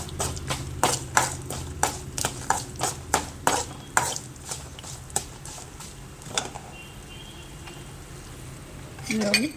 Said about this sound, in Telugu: పల్లీలు వేగటానికి టైం పడుతుంది కాబట్టి ఫస్ట్ పల్లీలు వేసుకోవాలి